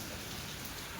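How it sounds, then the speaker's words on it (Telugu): A summer downpour falls hard and continuously, a thick, unbroken wash of drops striking nearby surfaces. "ఇంత వర్షం పడింది"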